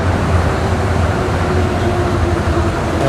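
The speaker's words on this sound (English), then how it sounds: "There's your train." A train passes in Tokyo, a steady loud roar of wheels and rails with a faint tonal hum running through it, no voices.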